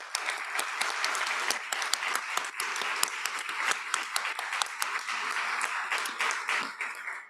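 Sustained audience applause fills a public meeting of the Carnegie Library of Pittsburgh, a dense, steady patter of many hands clapping at moderate distance without a break.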